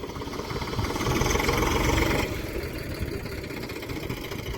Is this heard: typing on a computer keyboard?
no